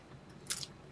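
A crisp crunch as someone bites into the crunchy edge of a tortilla-crust pizza made with kabocha squash, one short close bite with faint chewing.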